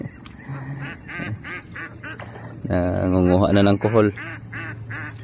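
Farm ducks quacking and honking loudly nearby in rain-soaked fields, a rapid chorus of calls rising in the middle, with a person speaking over them.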